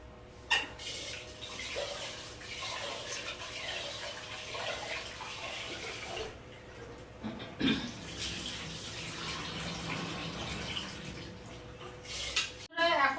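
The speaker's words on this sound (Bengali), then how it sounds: "এই দেখো চাল ধুচ্ছি" Rice being rinsed in water in a home kitchen, with sloshing and light clinks of a pot under steady tap running, broken by a few sharper knocks, while someone talks throughout.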